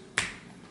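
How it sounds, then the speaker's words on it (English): A single crisp finger snap, close and sharp with a quick decay, alone in a quiet room. "I snap my fingers."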